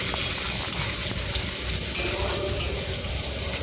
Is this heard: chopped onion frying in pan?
yes